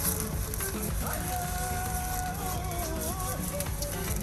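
Chapati frying in oil on a pan, with a steady soft sizzle and crackle throughout, under faint background tones and occasional talk.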